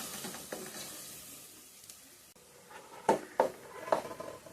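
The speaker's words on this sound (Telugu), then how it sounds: "అల్లం వెల్లుల్లి పేస్ట్ కూడా పచ్చి వాసన పోయేదాకా వేయించుకున్నానండి" Ginger garlic paste and spices fry in a pan for mutton paya, with a soft, steady sizzle broken by a few louder scraping stirs toward the end.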